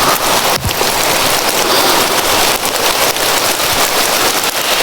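Heavy rain pours down continuously, a dense even hiss of drops striking surfaces up close, with no voices.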